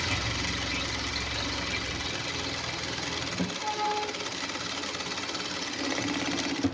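A sewing machine stitches a high neck blouse with a steady motor whir and a rapid needle rhythm, loud and close, running continuously with no talk over it.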